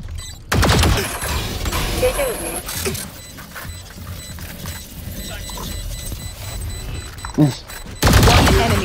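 Gunfire and ability effects from the video game Valorant: loud bursts of shots at the start and end, with continuous game noise and clatter in between.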